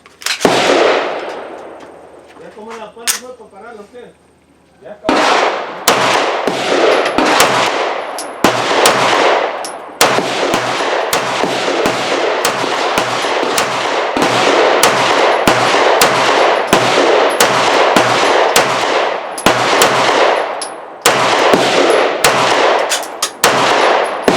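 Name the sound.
Sarsilmaz B6 9mm pistol being fired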